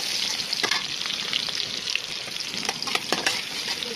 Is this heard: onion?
yes